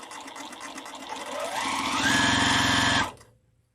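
A semi-industrial demo sewing machine starts up and stitches in a steady, close whirring run for about a second and a half, then stops abruptly.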